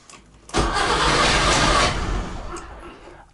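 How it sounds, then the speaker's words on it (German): A Trabant 601 engine cranks and catches, a sudden loud rough roar that holds for over a second and then settles lower as it idles, heard close with no talking. "Jetzt will ich mal testen, ob ich den Wagen starten kann."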